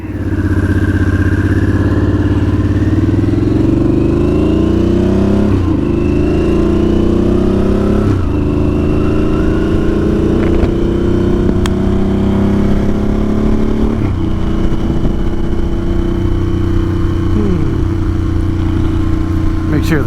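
A Harley-Davidson Sportster S with belt drive growls through a test ride, the engine rising and falling in pitch through repeated gear changes and throttle surges, loud and close with steady wind noise throughout.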